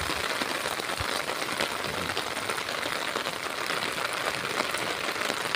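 Steady, dense hiss of heavy rain pouring down continuously by the Tarlac River, with no voices.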